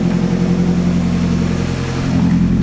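Nissan 240SX engine idling while warming up, a loud steady low rumble with an even, unchanging throb and no revving.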